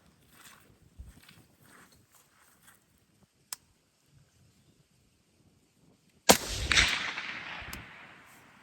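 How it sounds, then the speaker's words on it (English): Suppressed .223 AR rifle fired outdoors, one sharp crack followed by a rolling echo that fades over about two seconds, preceded by faint outdoor rustling and a small tap. "This is 223 suppressed."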